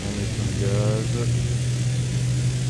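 A Canadair aircraft's engine in Microsoft Flight Simulator 2020 drones steadily with a low hum as throttle is applied, holding fairly constant, with a brief voice murmur early on.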